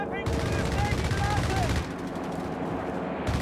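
Machine gun fire in Company of Heroes 3 during a strafing run, with continuous rapid bursts and booming impacts under an excited commentator talking throughout.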